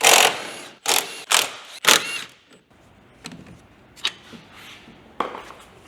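Strut brace bolts being removed with an E18 socket during a BMW F30/F31/F3X suspension install, giving a few close, sharp metallic clicks and clanks early on, then scattered fainter taps and rattles with no talking.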